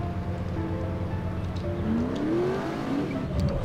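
A car engine in the video game The Saboteur revs hard and continuously up close, pitch climbing and sweeping upward in the second half, with a faint tire-like squeal and no speech.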